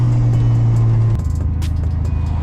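A turbocharged Honda Civic with a D16Y8 engine drones loudly from inside, holding a steady tone before shifting gear and pulling on with a rougher, rumbling note.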